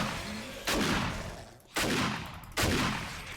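Three heavy gun blasts fire in 7 Days to Die at an even spacing. Each one cracks loud and close and leaves a long decaying rumble.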